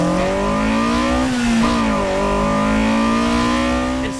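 BMW E30 M3 fitted with an S54 engine and a new exhaust revs hard, a high whiny engine note climbing, dipping briefly and rising again, loud and close with no talking.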